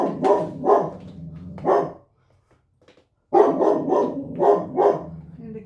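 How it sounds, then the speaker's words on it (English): A dog barks in two bursts of several loud, close woofs, separated by a short quiet pause, in an indoor home setting. "We want to stop here so we don't hear the dog"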